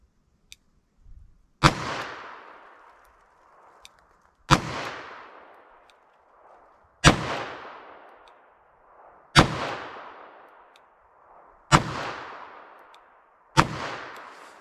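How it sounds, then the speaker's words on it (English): A Smith & Wesson 686 revolver fires six shots of American Eagle .38 Special lead round-nose ammunition, spaced about two seconds apart. Each report is loud and sharp and rings out into a decaying echo, with no voices. "I'm gonna go for the target on the lower right with my Smith & Wesson 686 here"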